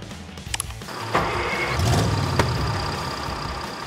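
A PAW Patrol toy police cruiser plays a motor sound effect: a steady, mid-pitched rumble that revs up and keeps running, with a few small clicks at the start.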